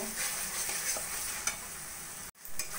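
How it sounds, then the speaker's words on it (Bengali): Spice paste for a doi katla fish curry stirred and fried in a pan over a low flame, giving a steady close sizzle with soft scraping strokes and a brief dropout near the end. "মশলা এইভাবে লো ফ্লেমে নাড়া দিয়ে দিয়ে যতক্ষণ না বেশ কষা কষা তেল ছাড়া ছাড়া হচ্ছে ততক্ষণ আমি কষিয়ে নেব"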